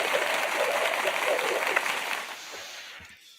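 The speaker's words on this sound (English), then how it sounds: "First and foremost, we'll give that a quick clap." A small audience gives a brief, close round of clapping that fades out over a few seconds.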